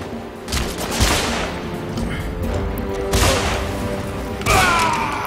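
Rapid gunfire in the shooter Deadfall Adventures, dense bursts of shots and impacts at close range with a few louder volleys standing out, continuous and loud throughout.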